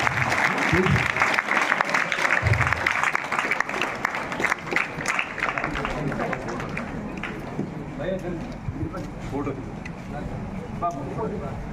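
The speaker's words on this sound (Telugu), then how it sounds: "చప్పట్లు గట్టి" An audience at a college celebration of Telangana intermediate exam results claps in sustained, dense applause, with voices and shouts mixed in, the clapping thinning somewhat toward the end.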